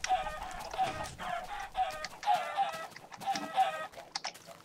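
Chickens in Minecraft cluck in short, repeated bursts, close and moderately loud, with several overlapping calls and brief pauses between them.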